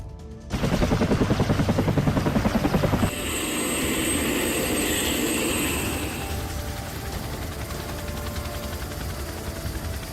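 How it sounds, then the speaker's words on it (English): A Bell 212 helicopter's rotor chops loudly and steadily, the rhythmic thumping giving way to a sustained turbine whine and roar as it flies past. "a squadron of Bell 212 helicopters"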